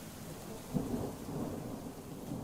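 Steady rain hisses in a video game scene of two characters sitting on the ground under a ledge, with a soft low rumble of distant thunder swelling briefly near the start.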